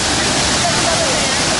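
Taytay Waterfall in Laguna, Philippines roars as a steady, dense wash of falling water, close and loud throughout with no break.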